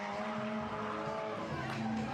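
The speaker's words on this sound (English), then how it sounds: "That was not a good drift anyways." A drifting car's tires squeal in a sustained high whine over a roaring engine, loud and continuous with slight shifts in pitch.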